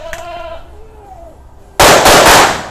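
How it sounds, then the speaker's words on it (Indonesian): A few faint tonal whistles, then a sudden loud crackling burst of three sunflower firecrackers exploding at once in rapid succession, close and harsh. "Kita nyalakan mercon sunflower 3 sekaligus"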